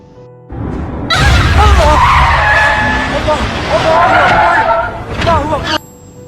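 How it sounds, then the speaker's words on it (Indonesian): Car in the film Munafik skidding with loud, screeching tire squeals that waver in pitch over several seconds, close and harsh, then cutting off abruptly. "Karena kaget, akhirnya mobil sang guru jatuh ke sungai."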